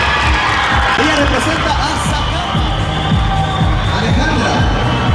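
A dense crowd at the Miss Guatemala 2010 beauty pageant cheers and applauds loudly and continuously, with shouts rising through the din while an announcer speaks over it.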